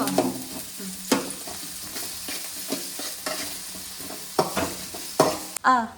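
Egg bhurji frying in a pan, stirred with sharp scraping strokes at irregular intervals over a soft sizzle, close and clear, ending with a brief clatter.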